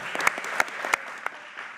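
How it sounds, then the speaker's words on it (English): A short burst of crowd applause greets former mayor Mike Coleman at a city council committee community conversation on flavored tobacco, with scattered sharp claps fading quickly. "please give a round of applause to Mayor Mike Coleman"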